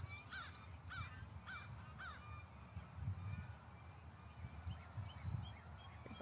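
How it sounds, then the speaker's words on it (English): Crows caw repeatedly in a park, a series of distinct calls at steady intervals over a constant outdoor hum and distant rustling, with no voices. "Chittering birds."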